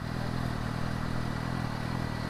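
A motorcycle engine revs steadily in a loud, continuous rough drone with dense clattering mechanical noise and no pauses.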